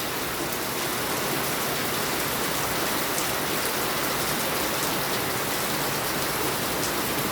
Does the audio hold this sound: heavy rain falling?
yes